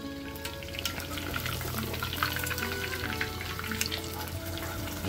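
A pan-roasted pork chop fries in a pan with a steady, dense sizzle and small bubbling crackles throughout, close and moderately loud, with no talking.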